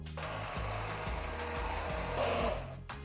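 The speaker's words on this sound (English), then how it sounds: "That is what our hand mixer, or I'm going to use an emulsifier, is for." An immersion emulsifier blending white chocolate mirror glaze, a continuous close motor whir with a steady buzzing drone whose pitch shifts slightly as it churns, then cuts off near the end.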